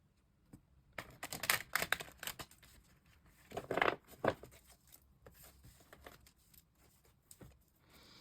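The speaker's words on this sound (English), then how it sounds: "Let me just shuffle it a little bit." A tarot deck is shuffled by hand, producing several bursts of crisp riffling and card clicks with uneven pauses between them, close and fairly quiet, with no speech.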